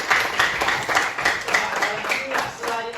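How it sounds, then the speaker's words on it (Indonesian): Classroom applause from a group of students, a few seconds of rhythmic, fairly close clapping with voices mixed in. "tepuk tangan dulu buat Jody."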